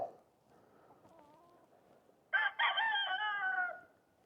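A rooster crows loudly in one long harmonic call after a few seconds of quieter low background sound and faint clucking of chickens in a garden.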